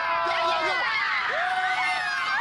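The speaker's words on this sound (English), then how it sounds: "Everybody's cheering." Crowd of parents and children cheering and shouting at a kids' soccer game on a big field, a continuous excited, dense wash of voices with high-pitched calls standing out, fairly close.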